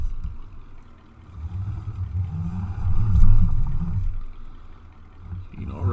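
A truck towing a horse trailer reverses in Farming Simulator 19, its low engine drone rising and falling steadily and swelling loudest near the middle, with no voices.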